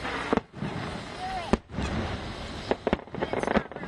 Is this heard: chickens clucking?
no